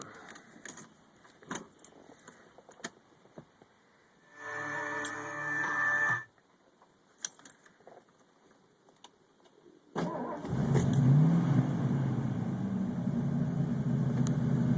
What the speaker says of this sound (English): So let's go ahead and fire this car up.